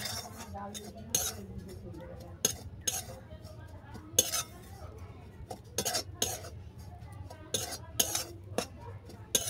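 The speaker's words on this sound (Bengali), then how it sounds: "এটাকে নেড়ে ছেড়ে 2 মিনিট ভেজে নেব।" Spatula stirring puffed rice flour as it fries in a pan, with irregular scraping clinks and knocks of utensil on metal, close and fairly quiet.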